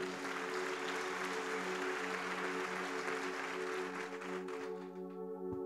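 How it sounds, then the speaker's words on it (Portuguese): A church congregation applauds, a sustained, full round of clapping with a faint tone ringing underneath, thinning out near the end. "Você pode aplaudir Jesus bem forte?"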